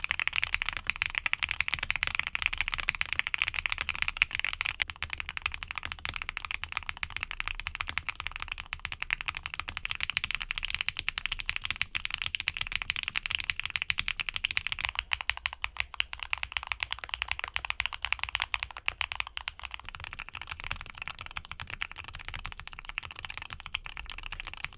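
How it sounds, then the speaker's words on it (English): Creamy mechanical keyboard switches typed on in back-to-back sound tests, producing a steady stream of soft, close clacks and thocks with no talking. "Now, here are back-to-back sound tests of all the switches we talked about today."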